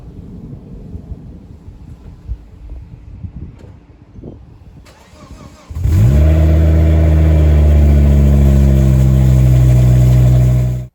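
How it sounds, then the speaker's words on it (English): Volvo V50 with a broken, effectively straight-piped exhaust. Quiet rumbling at first, then the engine bursts into a loud, raw, sustained rev that drones on at a steady high level for about five seconds. "the car has basically straight piped itself"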